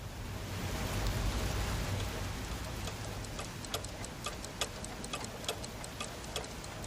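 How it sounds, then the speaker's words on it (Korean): A clock ticks steadily and crisply over a constant wash of heavy rain pattering down, with no voices. "째깍째깍하는 시계소리와 뒤섞였다"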